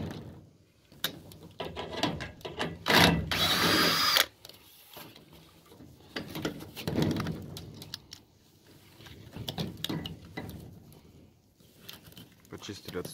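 A power drill unscrews the hinges of a solid door during installation, with a loud burst of whirring around the middle and shorter, fainter drill runs and handling clatter elsewhere.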